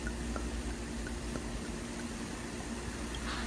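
Champagne poured into a cranberry lemon sangria, giving a steady, soft, hissing fizz of fine bubbles that carries on throughout at low volume, with no voices.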